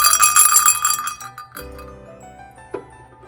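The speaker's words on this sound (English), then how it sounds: "each size bell has a different pitch" A larger Christmas bell rings in a home at the holidays, a bright jingling burst at first that fades, followed by a lower, softer tone and one small clink.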